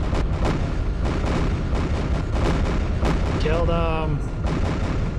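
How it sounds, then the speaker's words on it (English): Ship guns firing in the space strategy game Homeworld with the PDS Vaygr mod, a steady loud barrage of dense, overlapping booming shots and bursts that carries throughout, with a brief rising whine partway through and a voice speaking over it. "Go get your guns working."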